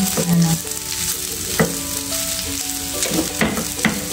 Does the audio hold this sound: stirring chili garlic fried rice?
yes